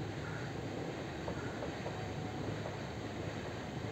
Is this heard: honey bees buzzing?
no